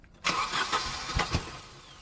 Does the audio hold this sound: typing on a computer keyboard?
no